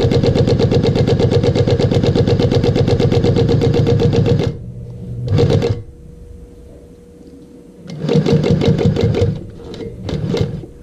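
Sewing machine stitching a zipper on a fabric toiletry bag, a loud, steady mechanical whir that runs for a few seconds, then stops, followed by short bursts of stitching.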